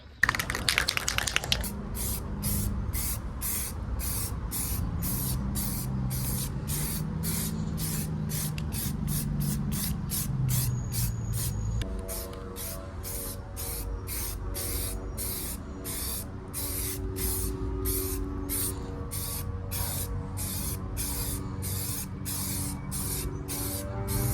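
Repeated bursts of aerosol spray paint laying a second coat on a car grille, a steady rapid series of close hissing blasts with a low background hum throughout.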